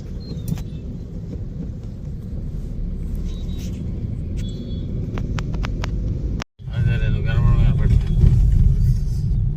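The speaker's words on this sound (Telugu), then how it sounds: "ట్రాఫిక్లో పావు గంట అరగంట ఆగుతా వెళ్తున్నామండి ఫుల్ ట్రాఫిక్ ఉంది ఫుల్ అంటే ఫుల్" Heavy road traffic near Ramoji Film City: a steady low rumble of idling and crawling vehicles with wind buffeting, a brief dropout near the end, and voices talking over it.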